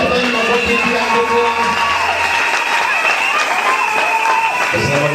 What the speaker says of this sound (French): Acclamons pour le frère.